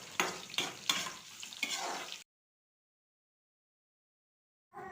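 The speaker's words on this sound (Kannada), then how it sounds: "ಉಳ್ಳಾಗಡ್ಡಿ ಹಸಿ ಸ್ಮೆಲ್ಲೆಲ್ಲ ಹೋಗೋ ತನಕ ಚೆಂದಾಗೆ ಫ್ರೈ ಮಾಡ್ಕೋಬೇಕ್ರಿ." Onion frying with chana dal and urad dal in a pan, with sizzling and spatula stirring scrapes for about two seconds, then silence before the sizzle briefly returns at the end.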